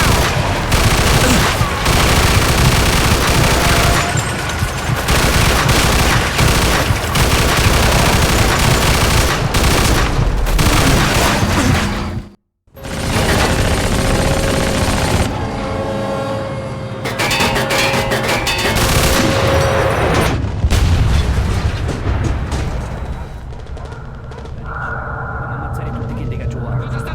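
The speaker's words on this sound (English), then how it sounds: "they got artillery! Get inside!" Dense gunfire and artillery in the video game Mafia II, continuous heavy bursts and booms with one brief silent gap, then sporadic shots continuing.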